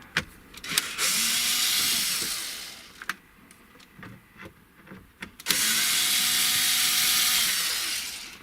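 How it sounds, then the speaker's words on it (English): Power screwdriver whirring as Phillips screws are backed out of the dash console of a Dodge Ram pickup, two sustained bursts of a few seconds each with a rising-falling motor pitch, separated by clicks and handling noises, close and clear. "there's a couple of Phillips screws up there, so we're going to go ahead and take that out"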